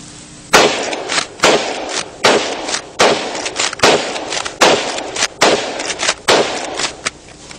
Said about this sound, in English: I'll show you what it will do, although I'm not an expert with the lever action like old Chuck Connors is